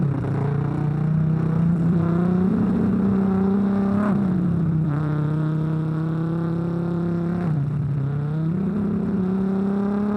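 A voice imitates a race car, a sustained buzzing engine drone that dips and swoops upward in pitch several times like gear shifts and passes, loud and alone.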